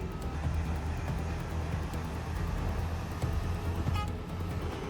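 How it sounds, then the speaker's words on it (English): Deep, steady diesel drone of a truck convoy crawling along a dusty red dirt road, hauling an 85-ton excavator chained to a trailer, a continuous low rumble with a brief higher-pitched squeal near the end. "The convoy slowly moves along the dusty red road as thick steel chains tightly secure the enormous excavator amid the deep roar of diesel engines."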